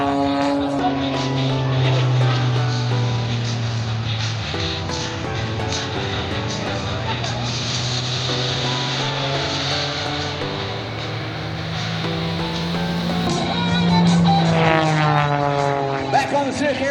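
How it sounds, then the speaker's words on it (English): Aerobatic propeller plane at an airshow, its engine droning and shifting pitch as it loops and snaps, loud and fairly near, under a commentator speaking over a public address system throughout. "Comes to the top, and the aircraft goes on an outside snap."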